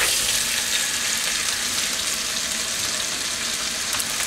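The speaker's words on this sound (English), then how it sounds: "We will brown the vegetables." Steamed vegetables frying in coconut oil with browned cumin in a pan, a loud, continuous close sizzle with faint crackles and no talking.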